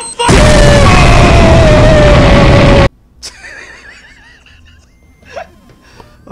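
A gasoline pouch exploding in a video game gives one very loud, sustained blast roaring for over two seconds with a whinnying tonal streak inside, then cutting off abruptly into quieter scattered game noises.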